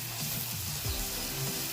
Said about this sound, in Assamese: এতিয়া পিঁয়াজখিনি ৰঙা হোৱালৈকে অলপ টাইম ভাজি থাকিব লাগিব